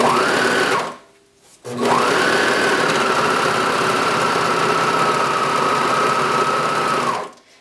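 A sewing machine stitches elastic over a swimsuit seam with a close, rapid, steady motor whir. It runs in one short burst, pauses briefly, then runs in a longer sustained run of about five seconds before stopping.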